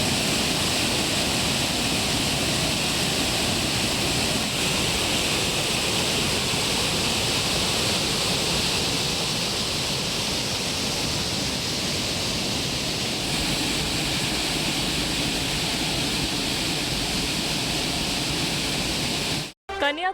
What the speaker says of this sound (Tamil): வெள்ளம் பெருக்கெடுத்ததால் சுருளி அருவியில் நீர்வரத்து அதிகரித்துள்ளது